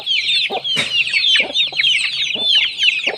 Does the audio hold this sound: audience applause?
no